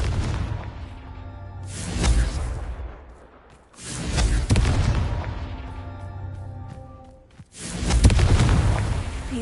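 Confringo fire spell explosions in Hogwarts Legacy: three heavy booming blasts spaced a few seconds apart, each with a deep rumbling tail fading out, loud and near, with no talk.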